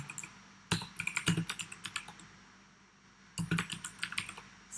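Two short bursts of quick keystrokes on a computer keyboard while writing Python code in VS Code, near and fairly quiet, with a pause between them; no speech.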